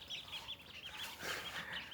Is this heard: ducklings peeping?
yes